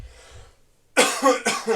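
Two sharp, loud coughs close to the microphone, right after a brief quiet breath.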